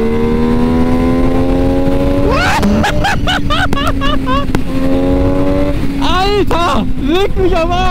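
An MV Agusta Dragster 800 RR motorcycle engine roars close by, climbing through the revs in sharp bursts with quick gear shifts, loud and relentless over steady wind noise.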